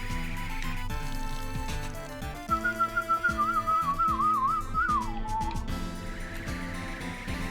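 A person whistles a wavering, sliding tune over looping game background music, the whistle entering midway, held for a couple of seconds and then fading as the music carries on.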